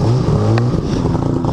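A 340 Whiplash snowmobile engine revs loud and close with a steady harmonic drone, pitch dropping partway through, alone without talk.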